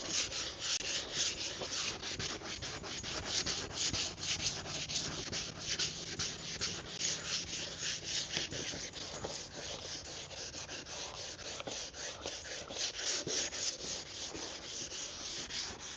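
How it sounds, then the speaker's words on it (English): A sanding machine works over a car part in a garage during an Infiniti Q50 twin-turbo build, giving a steady, quiet abrasive rubbing with brief scraping strokes and no talking. "So they use the machine with the sanding."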